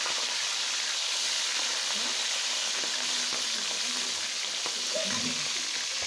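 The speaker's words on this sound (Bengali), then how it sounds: "আমি এখন আগে মাথাটাকে খুব সুন্দর করে মুচমুচে করে ভেজে নেব" Chitol fish head frying crisp in hot oil, a constant dense sizzle with faint crackles throughout, close and fairly loud, no voices.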